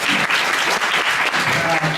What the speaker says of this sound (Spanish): Les brindamos un caluroso aplauso.